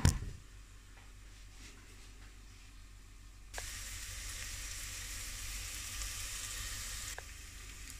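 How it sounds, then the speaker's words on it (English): Onions frying lightly in a pan with a soft, steady sizzle that swells louder partway through, as if stirred or the heat catches, then settles back, close and without talk. "I'm just going to put my onions in now. I'm just going to just lightly sort of fry them for a few minutes"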